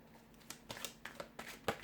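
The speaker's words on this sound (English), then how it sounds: "we'll give the cards a shuffle" Tarot cards shuffled by hand, giving a quiet run of papery flicks and riffles that come in irregular bursts, close and soft, with no talking.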